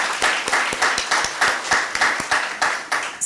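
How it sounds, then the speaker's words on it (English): An audience applauds at the close of a scientific talk at an African BioGenome Project regional meeting, with a steady, dense patter of many hands clapping up close for the whole stretch. "So another round of applause for Dr."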